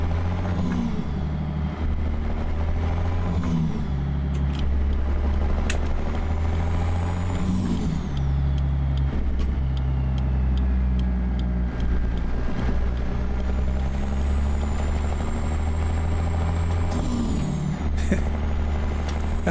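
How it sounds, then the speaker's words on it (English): A wood chip belly van truck passes by on the highway in American Truck Simulator, with a deep, steady diesel engine drone and hiss throughout and a few sharp air-brake-like bursts. "here comes a chip van coming our way"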